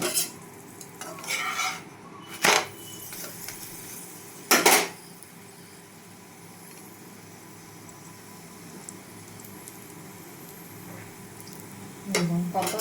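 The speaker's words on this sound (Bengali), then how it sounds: "তেল দিয়ে আমি পরোটাটি ভেজে নেব" Paratha frying in oil in a pan: a soft, steady sizzle runs underneath, broken by several sharp clanks and scrapes of a utensil against the pan.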